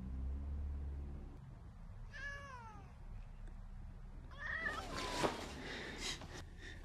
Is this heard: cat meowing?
yes